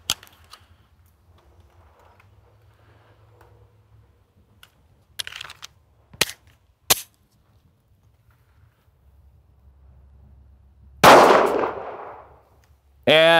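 A Sig Sauer P365 pistol fires Federal 115 grain aluminum-cased ammunition: several sharp, irregularly spaced reports over quiet background noise, with a louder shot near the end that rings out before one more crack.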